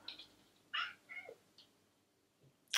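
A domestic cat meows several times in short, separate calls spaced across a quiet indoor room, fairly faint, with one sharp higher cry at the end.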